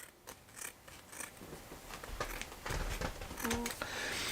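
Scissors snip through material being trimmed about two inches off the bottom, a quick run of close, quiet crisp cuts and rustles in a small room.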